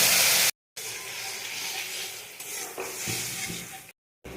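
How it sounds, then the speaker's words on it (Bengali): A ginger, garlic, onion and tomato paste sizzles in a wok with stirring scrapes and a busy hiss, broken by short silent gaps near the start and end. "আদা রসুন পেঁয়াজ আর টমেটো পেস্ট করে রেখেছি। এখন আমি কড়াইতে এটা দিয়ে দিলাম।"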